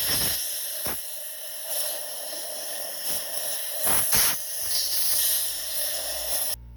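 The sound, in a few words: air hose blowing carbon out of engine cylinder head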